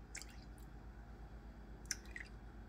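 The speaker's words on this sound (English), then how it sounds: "let's see how much water we're going to add to this now," Small amounts of water dripping into acrylic paint pouring medium, a few faint soft drips and wet squishes in a quiet room, with a low hum underneath.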